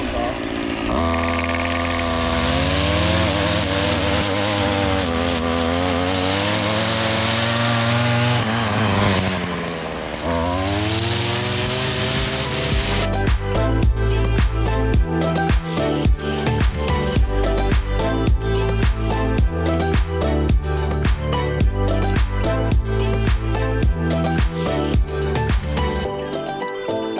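A gas weed eater string trimmer runs loud and close, first holding a high wavering whine that sags and climbs, then switching to a choppy, stuttering bog as the head gets tangled and can't rev up, someone talking over it.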